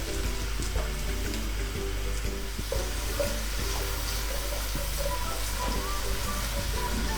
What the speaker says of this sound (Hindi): जब तक हमारा प्याज फ्राई हो रहा है